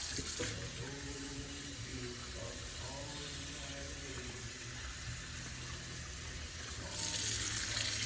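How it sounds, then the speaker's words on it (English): Tap water runs steadily into a sink while the inside of a previously stuffed turkey is rinsed, a continuous close splashing flow lasting several seconds that swells slightly louder near the end. "I'll rinse the interior off"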